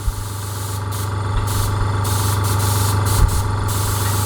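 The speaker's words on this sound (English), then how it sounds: "just going to let some air out, dial it back, because the gauge gives a true reading when the air is being released" Air hisses out of a Fengda FD-186 airbrush compressor, a steady close spray over a low motor hum, broken by a few short gaps as the valve is adjusted; no one speaks.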